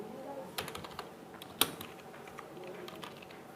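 Scattered keystrokes on a computer keyboard while writing HTML code, a few isolated clicks and one sharper tap over a quiet room hum.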